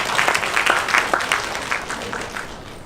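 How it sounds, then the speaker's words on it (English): Audience applause after a talk on leadership, a steady wash of many hands clapping that stays loud for the whole stretch and eases off slightly toward the end. "Big round of applause for Amy."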